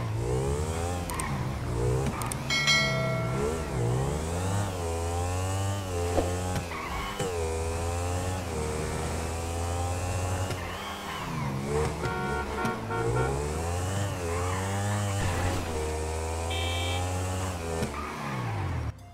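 Engine of a motorbike ridden in GTA V, a steady loud drone with rising and falling revs through gear changes, continuous and close throughout.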